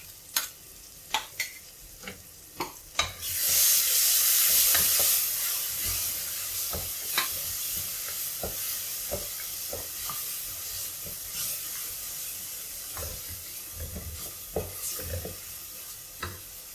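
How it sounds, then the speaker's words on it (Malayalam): Ground coconut paste with cinnamon, cardamom, ginger and garlic is mixed into a hot pan: a few sharp spoon taps come first, then a loud steady hiss and sizzle, with scattered stirring clicks throughout. "അരച്ച് വെച്ചിരിക്കുന്ന തേങ്ങയും കറുവപ്പട്ട ഏലക്ക ഇഞ്ചി വെളുത്തുള്ളി എല്ലാം കരച്ച അരച്ച പേസ്റ്റ് ഇതിലേക്ക് ഇട്ട് കൊടുത്ത് നന്നായിട്ടൊന്ന് മിക്സ് ചെയ്യാം"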